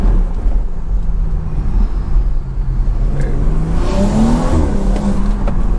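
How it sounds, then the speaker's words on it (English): A BMW F30 340i with a catless downpipe pulls hard from inside the cabin, its engine note rising through a steady loud drone with whirring turbo spool climbing over the last seconds, no talking. "I can hear the turbo spool in this thing, and it's crazy."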